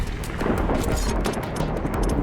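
Rumbling thunder from a storm in The Riftbreaker game, a dense continuous low roar with crackling texture, loud and steady throughout.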